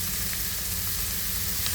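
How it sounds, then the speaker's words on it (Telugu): Thinly sliced onions sizzle in hot oil with curry leaves and a little salt, a dense, steady frying hiss close up and continuous throughout. "కరివేపాకు ఫ్రై అయిన తర్వాత సన్నగా కట్ చేసిన ఉల్లిపాయలు, ఆనియన్స్ వేసాక కొద్దిగా సాల్ట్ వేస్తే ఆనియన్స్ అనేవి తొందరగా మగ్గుతాయి"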